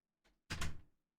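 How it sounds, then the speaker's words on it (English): A door is pushed shut indoors, a soft preliminary bump followed by a single solid thud, close and fairly loud against near silence. "Close this door."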